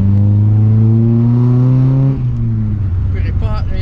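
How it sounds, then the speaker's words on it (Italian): A historic rally car, such as a Porsche, roars past on a narrow village road at a vintage rally, its engine note loud and rising then dropping as it passes, with someone talking over it. "più è storico, quindi il rumore lo sentite bene. Dei Porsche, eccetera"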